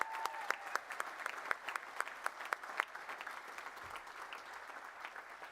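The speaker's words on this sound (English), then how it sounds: "Give him a round of applause, he's watching." A room full of people clapping steadily at a university graduation ceremony, dense and fairly distant, with a few sharper claps standing out near the start.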